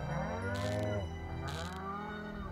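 Cow mooing in the farming game Stardew Valley, a long, low bovine moo that swells and trails off, with light chiming game sounds twice over it and no speech.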